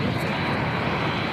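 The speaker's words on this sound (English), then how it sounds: "Beautiful TUI Dreamliner arriving here at Manchester." A TUI Dreamliner jet arriving at Manchester Airport produces a loud, continuous broadband engine roar, steady and close, with no speech over it.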